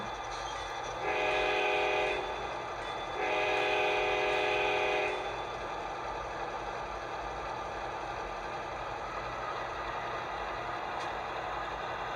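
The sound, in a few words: locomotive bell and horn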